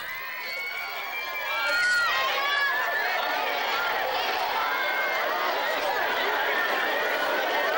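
A crowd of supporters at the entrance of a Tondo parish church cheers and shouts, a loud dense mass of overlapping voices that swells after the first two seconds and stays high.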